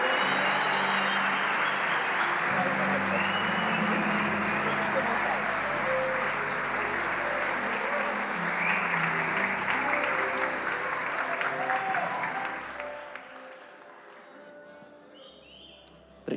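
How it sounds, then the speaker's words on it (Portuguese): A church conference crowd gives warm applause welcoming Pastor Hernandes Dias Lopes, a thick, steady roar of clapping that holds for about twelve seconds before tapering off into scattered claps and quiet, with a voice faintly beneath it. "você recebesse o pastor Hernandes com um caloroso aplauso"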